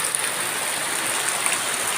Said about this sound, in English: So, rainy afternoon. Absolutely beautiful.